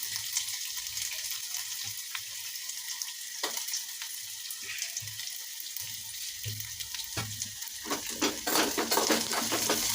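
Peanuts, curry leaves, green chillies and onions fry in a pan with a steady close sizzle, punctuated by scraping stirs and clinks of a utensil against the pan, with no talk.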